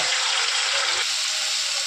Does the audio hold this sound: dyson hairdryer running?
no